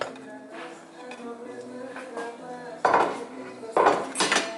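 A spoon stirs béchamel sauce into pasta in a pan for Greek pastitsio, with steady metallic scraping and clinking close by and two louder clanks near the end.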